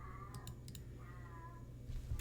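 A pet cat gives a couple of soft, drawn-out meows in the background beneath a low hum, with a few light clicks like keyboard taps nearby.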